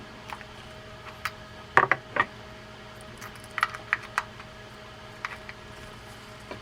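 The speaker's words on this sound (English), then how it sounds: "I'm just going to grab that spool and turn it that way" Spool of an Abu Ambassadeur 3300 baitcasting fishing reel being turned by hand during servicing, giving scattered small mechanical clicks and ticks, a tight cluster near the start and sparser light taps after, close and quiet.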